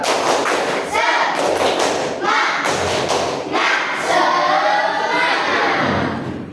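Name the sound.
children doing a rhythmic spirit clap in class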